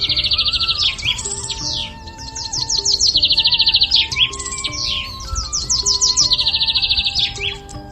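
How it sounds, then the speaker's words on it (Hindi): A small bird in an animated story chirps in rapid, bright trills and tweets, repeated bursts of high calls sounding loud and close over a soft musical background. "साधु एक नन्ही सी प्यारी सी चिड़िया कृष्णा को दे देता है"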